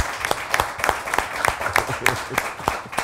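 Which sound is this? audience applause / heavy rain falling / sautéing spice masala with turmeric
audience applause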